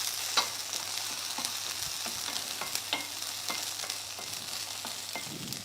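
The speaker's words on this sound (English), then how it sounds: "And while our spring onions are frying" Spring onions frying in a pan, a continuous bright sizzle with occasional sharp crackles and pops, close and steady with no talking.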